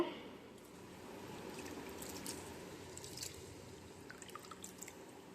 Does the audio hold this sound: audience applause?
no